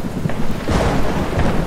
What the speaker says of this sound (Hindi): बिन मौसम बरसात हो रही है, तूफान भी आ रहा है।